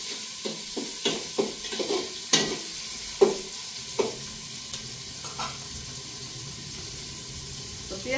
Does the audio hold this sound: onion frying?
yes